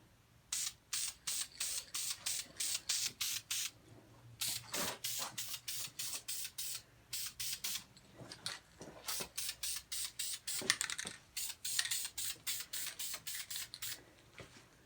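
Duplicolor Metalcast spray paint goes on as a second coat over a metal part in short repeated bursts, each a close, loud hiss lasting about a second with brief pauses between, continuing throughout.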